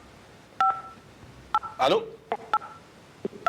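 Touch-tone telephone dialing beeps on a radio call-in line, several short DTMF tones spaced across the moment, close and clear, with a brief voice answering and a rustle between the tones.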